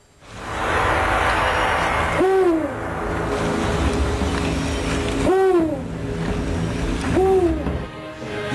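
An owl gives three clear, fairly loud hoots, each a short drawn-out call a few seconds apart, over a steady background hum.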